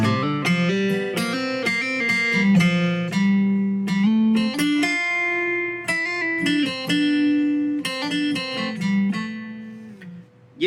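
An Aeroband MIDI guitar plays a run of plucked notes across open strings, a steady sequence of bright, synthetic tones with some notes carrying over into the next, moderately loud and with no voices.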